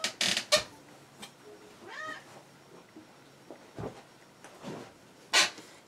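Cat meows come through clearly in a room where dolls are being handled, a few short calls and one rising, wavering yowl among soft handling noises and brief clatters.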